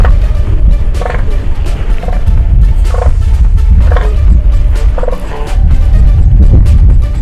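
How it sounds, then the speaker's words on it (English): Elephant seal bulls give deep, hollow, burp-like roaring bellows in a steady pulsing series over a loud low rumble of surf and wind. "Their battles usually begin with some posturing and the burp-style bellows."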